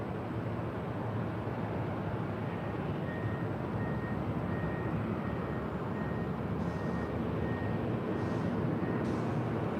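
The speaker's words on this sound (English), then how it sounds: "So our next arrival is Air Canada, flight 552, coming in from Vancouver, a 737 MAX 8" An Air Canada Boeing 737 MAX 8 arrives from Vancouver at LAX as a steady, distant broadband jet roar, even and continuous with a faint whine, and no talk.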